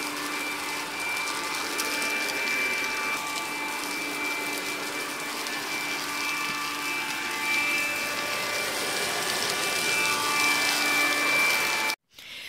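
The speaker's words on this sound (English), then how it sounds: "So the Hoover is really powerful. You can actually hear it sucking up all the bits" A Hoover Capsule cordless stick vacuum cleaner runs continuously while sucking up dirt, with a steady close whine and hum that holds for several seconds before cutting off abruptly near the end.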